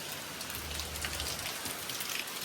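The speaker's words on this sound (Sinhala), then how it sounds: "හොඳටම වහිනවා." Heavy rain during a flood, a steady dense hiss of drops pattering on surfaces, loud and continuous without pause.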